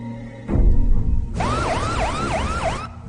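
An ambulance siren wails in a repeating rising and falling pattern, loud and near, cutting in after a burst of rumbling traffic noise.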